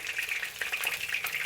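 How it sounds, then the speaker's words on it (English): Chicken wings deep frying in hot oil for a crisp Chinese-style dish, giving a steady close hiss of bubbling fat with small crackles throughout, no voices. "Continue deep frying them and I will show you how they look like when I flip them over."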